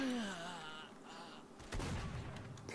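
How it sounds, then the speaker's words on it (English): In STALKER: Shadow of Chernobyl, a single loud gunshot bursts out partway through, breaking in after a wavering, whining tone and leaving a rumbling tail. "Love to hear a bullet go off and just panic."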